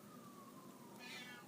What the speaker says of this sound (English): that is my cat coming into the room and wanting attention